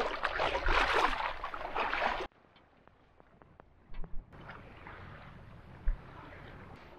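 Wind buffeting a microphone on a boat out at sea, a heavy rushing roar that cuts off abruptly, leaving quiet water and hull noises with occasional bumps.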